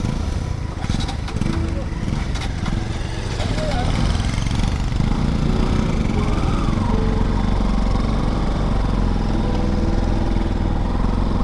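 An old motorcycle engine runs steadily while being ridden, a continuous low rumbling drone with road and wind noise throughout, and a voice talks over it.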